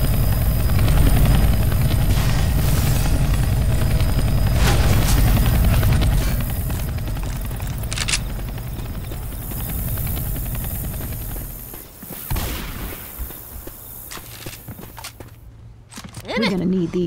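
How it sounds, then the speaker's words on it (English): A helicopter in the video game Left 4 Dead 2 (Dark Carnival): thumping rotor and engine whine hold steady for several seconds, then fade as footsteps, clanks and speech take over. "Look. A helicopter."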